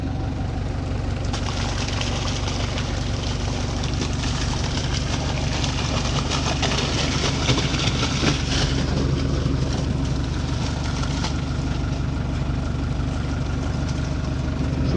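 A heavy tractor engine idles steadily and continuously, a deep constant rumble with a faint mechanical rattle, no voices.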